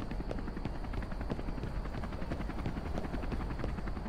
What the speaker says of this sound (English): There's a helicopter, but I don't see anybody here.